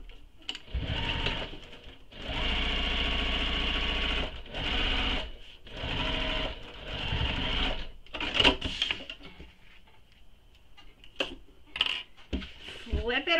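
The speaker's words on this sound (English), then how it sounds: "now I'm going to base stitch this in place" A sewing machine basting a bag panel in place on a mini crossbody bag, running in several sustained bursts separated by brief pauses, then lighter clicks and handling noises toward the end.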